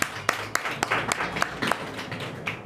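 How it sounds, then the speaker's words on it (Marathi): Children in a competition-coaching classroom clap for a classmate's correct answer, a short burst of uneven, fairly sparse claps at moderate distance. "टाळ्या वाजा."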